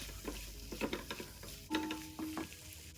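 Spices such as cayenne, smoked paprika, ginger, curry powder and thyme being stirred into a pot for jollof rice, with several close scraping and clinking strokes over a soft sizzle and a brief metallic ring.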